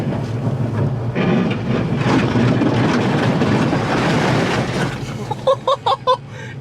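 Tyre rubbing on a Mazdaspeed6 after a coilover install, a loud continuous grinding scrape blended with road roar as the car moves, followed near the end by several short sharp bursts.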